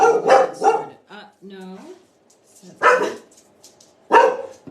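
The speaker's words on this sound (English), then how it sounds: "Uh-oh, my dog's here." A pet dog barks a few sharp close barks in a quiet room, with a short whine between them, while a person talks briefly.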